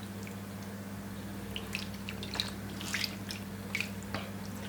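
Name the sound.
ketchup and honey sauce poured back over meat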